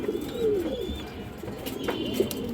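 Pair of green-necked pigeons cooing close by, soft low murmuring coos repeating through the moment with a few faint chirps, no talk.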